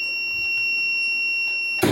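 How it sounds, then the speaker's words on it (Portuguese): Multimeter continuity beep while testing a microwave oven door switch: a steady high electronic tone holds for about two seconds, then a short noisy burst cuts in at the end. "que o bip sonoro ele para de ser assim emitido"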